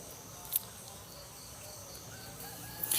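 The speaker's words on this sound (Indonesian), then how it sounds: "Udah ada ayam kongkorongok jam segini." A rooster crows faintly in the distance, a drawn-out rising call over steady insect chirping and low background hum.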